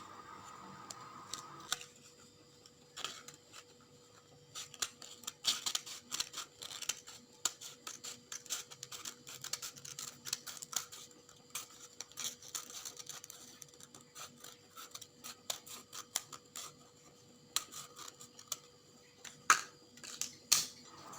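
Scissors snipping gift wrapping paper for a craft project, a long run of short, crisp cuts in irregular bursts with brief pauses between, close and fairly quiet with no talk.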